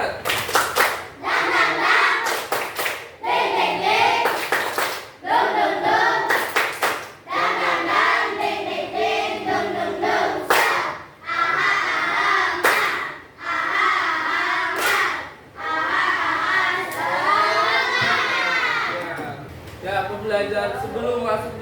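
Students in a classroom perform a rhythmic spirit clap, loud patterned bursts of hand claps broken by short pauses, with young voices chanting along between the claps.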